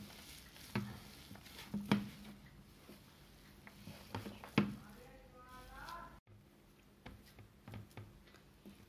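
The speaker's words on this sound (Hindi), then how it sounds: "इसे दबा दबा के अच्छे से मिक्स करें।" Hands press and knead a potato and bottle gourd tikki dough bound with besan and semolina, making quiet, close, irregular squishes and soft pats with brief pauses.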